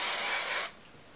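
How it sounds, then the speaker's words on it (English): Sebastian ReShaper hairspray sprayed onto hair while styling a loose messy Dutch side braid: one steady, close hiss lasting just over half a second, then a sudden stop leaving quiet room tone. "So I'm just gonna spray it a little bit,"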